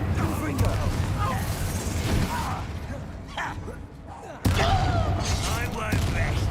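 Incendio and Confringo spells fire off in a Hogwarts Legacy battle: dense, loud blasts and crackling bursts, with a brief lull near the middle and a sharp new blast after it, while a voice speaks over the fight.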